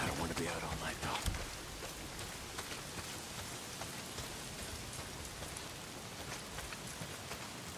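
Heavy rain pours steadily in the zombie survival game Days Gone, a dense, constant hiss of downpour filling the scene, with brief character voices in the opening second.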